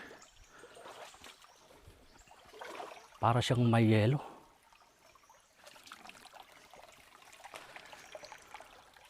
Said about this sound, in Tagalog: Kukunti na lang pala yung tubig ng sapa na ito.